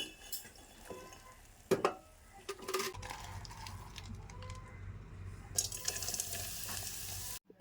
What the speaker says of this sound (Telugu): సో, అందుకని హాఫ్ ఆఫ్ చేసి ఇలా వేయించుకుంటామనమాట.